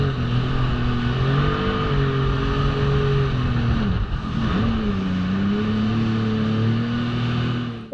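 A motorboat engine runs steadily at Havelock Island, a loud continuous drone with slight pitch swells as speed shifts, briefly dipping midway before resuming, with no talk over it.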